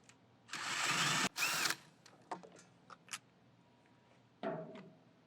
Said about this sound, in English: on the control panel plate, there are 4 Phillips head screws, 2 on each side that you got to remove.